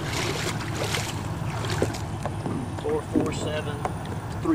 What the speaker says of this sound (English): the Miller boat on smooth water.